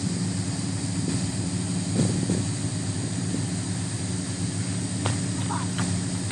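Three Ford AU car engines idle together, producing a steady, loud, low rumble that holds even throughout with no revving.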